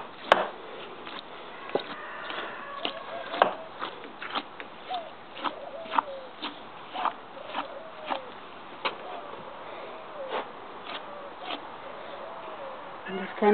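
A knife works through a pig carcass to cut off the shoulder, making a run of regular, close clicks and short chopping scrapes with soft wet textures between them.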